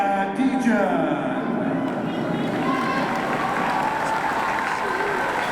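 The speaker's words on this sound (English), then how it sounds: "Thank you for getting her that applause" Steady applause from a speed skating crowd greeting Kazakh skater Mariya Degen before a 5000 m World Cup race in Calgary, a continuous wash of clapping with the announcer's voice over it.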